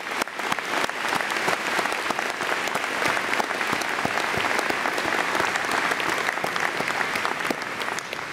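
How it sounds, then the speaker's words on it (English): Audience at a spring university convocation for a faculty of arts applauds steadily, a dense, even patter of many hands clapping throughout, moderately distant in a large hall with no talk over it. "Please join me in giving a round of applause to our award winners."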